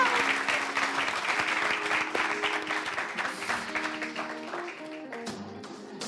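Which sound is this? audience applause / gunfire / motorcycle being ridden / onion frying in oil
audience applause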